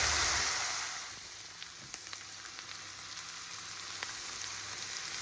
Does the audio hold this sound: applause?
no